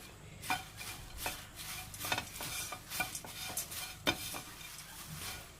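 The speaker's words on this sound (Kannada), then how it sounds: "ನಾನು ಗೀನ ಆ್ಯಡ್ ಮಾಡ್ತಾ ಇದ್ದೀನಿ. 2 ಸ್ಪೂನ್ ಅಷ್ಟು ಆ್ಯಡ್ ಮಾಡಿ ಸಾಕು ಟೇಸ್ಟಿಗೋಸ್ಕರ. ಅದೀಗ ಚೆನ್ನಾಗಿ ಫ್ರೈ ಮಾಡ್ಕೊಳ್ಳಿ." Paper poha sizzles softly in ghee in a pan while being cooked for a sweet panchakajjaya, with quiet scraping stirs and light utensil clinks at an irregular pace.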